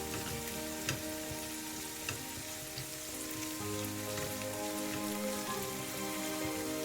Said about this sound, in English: So keep frying well.